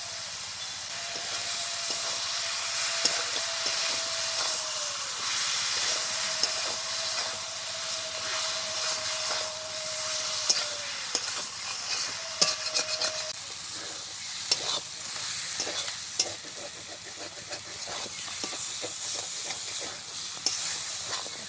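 Goat liver and meat with sour curd sautéing in a pan make a soft, continuous sizzle, broken by repeated spoon scrapes and clicks against the pan over a long stretch, close but fairly quiet.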